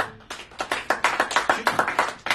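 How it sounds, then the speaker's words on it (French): A group claps rhythmically in a church worship service acclaiming Jesus, a steady run of about a dozen close, fairly loud claps with no speech. "Acclamons le Jésus."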